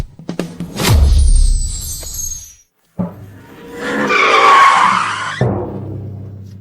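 A sports car skids hard with loud tire squeal, twice in succession: a sharp screech with a heavy low rumble, a brief gap, then a longer high-pitched squealing slide that cuts off abruptly.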